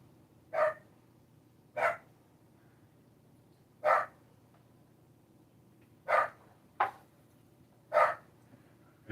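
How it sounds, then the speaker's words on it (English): A dog in a back bedroom barks six times at irregular intervals, each bark short and sharp, heard at moderate distance over a low steady room hum. "there's no reason for him to be back there in that bedroom barking"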